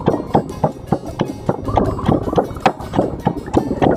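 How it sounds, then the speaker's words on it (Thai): Thai curry paste ingredients, including fingerroot and shredded kaffir lime peel, pounded in a mortar and pestle for a homestyle sour curry, heard as a steady rhythm of close, loud thuds, roughly three or four strikes per second, with no talking. "ตำให้เครื่องทุกอย่างเข้ากันก่อน"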